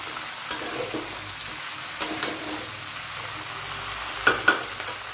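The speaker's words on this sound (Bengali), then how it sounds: "এটা একটু ভাজা ভাজা হোক" Green chillies and lentil dumplings (bori) fry in a kadai with peas and tomato, a soft constant sizzle broken by four sharp scraping stirs of the spoon against the pan.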